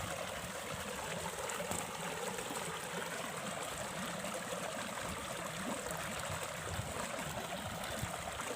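Water flowing through a freshly dug channel in a rice paddy, a faint, steady trickling and babbling that continues without pause.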